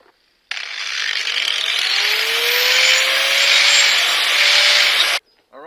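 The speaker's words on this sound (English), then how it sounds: "with this grinder tool." Handheld grinder tool rounds over the edges of a wooden garden bed, a loud steady whirring grind with rising pitch that starts abruptly and runs about five seconds before cutting off, no voices.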